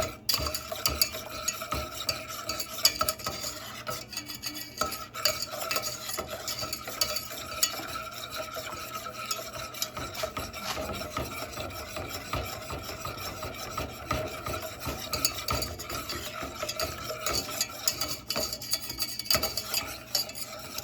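Butter being whisked in a pot as it melts: a continuous close scraping and rubbing of the whisk against the metal, steady and unbroken throughout with no voices.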